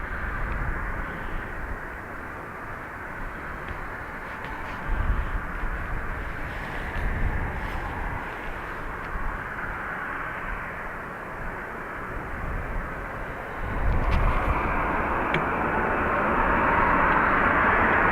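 An Airbus A321neo at Dublin Airport gives off a distant, rolling jet engine rumble that swells and fades. It grows louder and fuller toward the end as the aircraft draws nearer.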